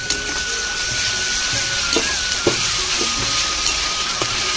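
Onion with ginger-garlic paste fries in a pan for an egg curry, a steady close sizzle with occasional clinks and scrapes of a spoon stirring, no voices.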